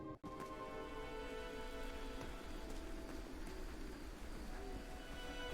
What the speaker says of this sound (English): Rain? Why would there be rain inside of a cave?